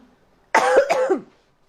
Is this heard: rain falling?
no